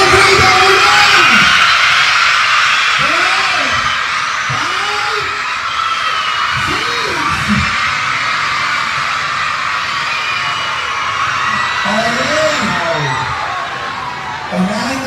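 School children at an outdoor supply distribution event shout and whoop loudly together in long, rising bursts, a big crowd yelling over steady background noise and amplified talk.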